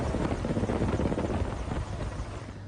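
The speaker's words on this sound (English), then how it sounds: "Firefighting measures were immediately launched with the involvement of a helicopter of the Ministry of Emergency Situations Aviation Detachment." An emergency ministry helicopter fighting a fire gives a loud, steady rotor thump with rapid rhythmic chopping that eases slightly toward the end.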